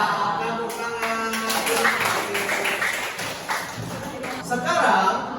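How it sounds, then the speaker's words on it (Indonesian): A class of students claps their hands in a classroom, a short burst of close, uneven claps and taps, with voices speaking over part of it. "Tepuk tangan."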